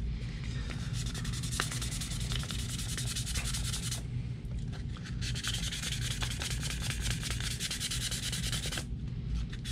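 A painted wireless mouse shell is sanded lightly with 600 grit sandpaper, heard as close, fast back-and-forth rubbing strokes in two long bursts separated by a short pause.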